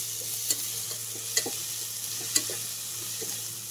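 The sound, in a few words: stirring ginger-garlic paste frying in oil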